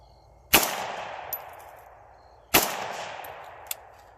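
A 9x39 AR pistol fires two loud, sharp unsuppressed semi-auto shots about two seconds apart outdoors, each followed by a long decaying echo and a faint clink.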